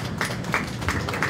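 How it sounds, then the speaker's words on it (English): Crowd applause in the show ring at the Dodge County Fair beef show, honoring a champion Charolais breeding heifer: a steady, dense patter of many hands clapping at moderate volume, continuous throughout, with no voices over it. "Let's give her a round of applause for a purple."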